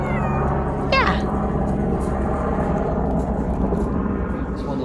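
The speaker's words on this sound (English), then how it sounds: "Hi, kitty." A cat meows once in a short rising and falling call, set against steady low background noise outdoors at a Napa Valley vineyard, with a faint voice nearby.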